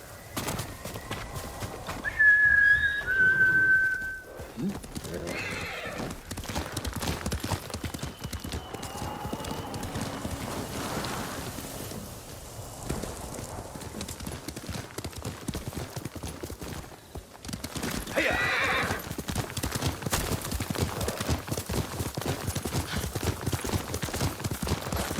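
A horse in the video game Ghost of Tsushima clip-clops along under game ambience and music, with a brief whinny near the start and faint birds in the background.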